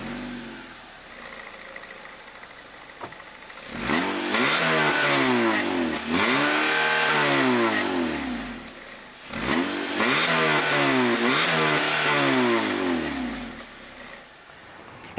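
A 2019 Acura ILX A-Spec's naturally aspirated engine idles, then revs hard twice, each rev climbing and falling back with a raspy tone, loud and close, with no voices.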